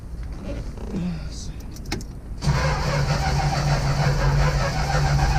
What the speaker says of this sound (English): This car don't want to run.